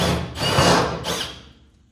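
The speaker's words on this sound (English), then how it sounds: "So we're going to drill this hole out just a little bit here." A power drill whirs in two short bursts, enlarging a hole up close to fit a 1/4 bolt, then winds down and fades.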